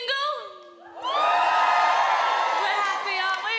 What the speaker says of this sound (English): Give me a cheer if you're single.